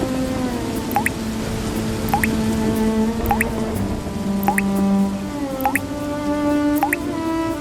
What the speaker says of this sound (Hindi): अजी देखिए, पूरी छत से पानी टपक रहा है।